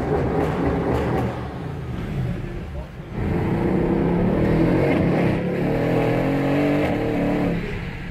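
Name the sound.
Mercedes CLS 63 AMG Renntech engine sound while accelerating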